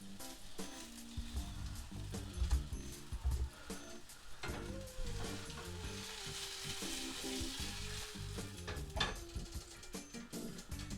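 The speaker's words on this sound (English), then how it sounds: "And then we're going to add our strips of thick cut bacon." Thick-cut bacon strips sizzle in a pan while a breakfast sandwich is made, a soft steady frying hiss with a few clattering handling and utensil knocks, fairly quiet.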